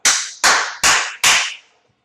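A teacher claps his hands four times in a lecture room to rouse drowsy students, each sharp, loud clap evenly spaced and ringing briefly before the next.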